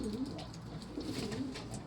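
A grey pigeon coos low and steadily throughout, close by, with a soft rolling rhythm over a faint background hiss.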